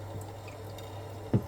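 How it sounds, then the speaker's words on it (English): Water drains from the removed tank of a condenser tumble dryer as a faint, steady trickle over a low hum, with one brief louder splash near the end. "that's how much water is still coming out of this"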